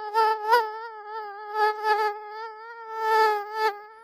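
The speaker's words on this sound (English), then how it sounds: "These ones will soon die off, and I will be met with the more aggressive, smaller mosquitoes that come in swarms." Mosquitoes whine close by at a remote Alaska cabin, a steady high-pitched buzz that swells and fades as they pass near, loud and alone with no other sound.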